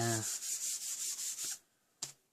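An embossing buddy is rubbed back and forth over vellum paper for card making, giving a series of soft, rhythmic scratchy strokes up close, then a pause and one short final swipe.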